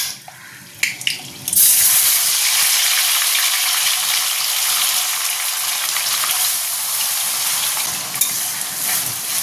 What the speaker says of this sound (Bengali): প্রথমে তো ঘি আর তেলটা গরম হয়ে গেছে এবার এতে দিয়ে দেবো তেজপাতা আর এই গোটা গরম মশলা হালকা নেড়ে নেব এবার দিয়ে দেবো পেঁয়াজ বাটা